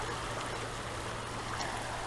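A river flowing steadily further upstream, swollen and healthy after a wet year, giving a continuous broad rush of water that stays even and close throughout with no talk over it.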